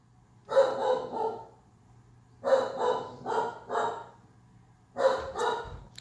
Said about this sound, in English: I'm so sorry for my dog. I'm going to have to kick him out.